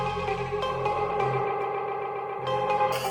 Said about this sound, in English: dub echo,